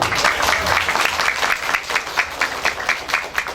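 Brisk applause from an audience at a Quran school (TPQ) event, dense and continuous clapping, fairly loud and close, with faint voices mixed in.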